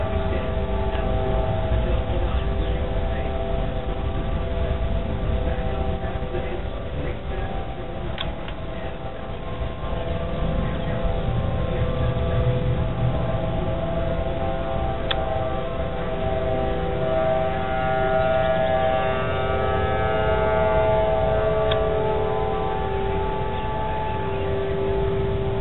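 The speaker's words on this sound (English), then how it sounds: "We don't even have a warning yet, and they're sounding the sirens." Civil defense sirens sounding for a thunderstorm warning wail in a steady, sustained, far-carrying tone that holds unbroken throughout, with no talk over it.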